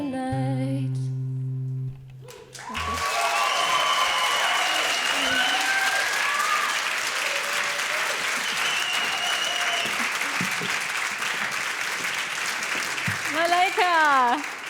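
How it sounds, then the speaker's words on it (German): Sung music ends abruptly, then loud audience applause and cheering erupt at a televised song contest final, sustained to the end, with voices and whoops riding over the clapping. "Malaika, dein Applaus"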